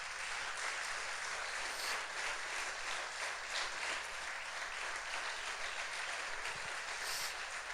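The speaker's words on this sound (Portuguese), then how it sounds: "Você pode aplaudir o Senhor pela sua palavra?" Congregation in a church applauding after a sermon, a continuous even roar of many hands clapping together at a steady loudness throughout.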